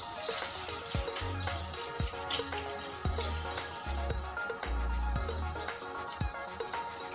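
Curry leaves and green chilli pieces fry in hot oil in a kadai while kadai paneer is made, producing a steady, close sizzle and crackle with soft bubbling throughout.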